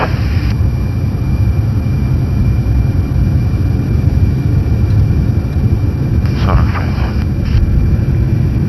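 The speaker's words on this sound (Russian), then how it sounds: "Двигатель на ПМГ прогретый." An aircraft engine runs warmed up at ground idle, giving a steady, dense low-frequency drone throughout, with a brief higher whine near the end.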